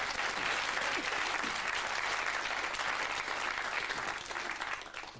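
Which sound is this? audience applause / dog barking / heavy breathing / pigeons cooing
audience applause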